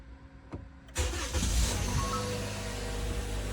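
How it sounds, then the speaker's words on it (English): A 2019 Toyota RAV4 engine cranks and catches after a short quiet moment, then settles into a steady, close idle that holds to the end, with no talking. "so I'm gonna start the car now."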